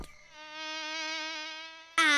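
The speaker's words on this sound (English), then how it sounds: "And bees. Buzz." A cartoon-style bee buzz from a children's show: a bright, steady, nasal droning tone held close and alone for about two seconds, then cut off by a sudden louder burst.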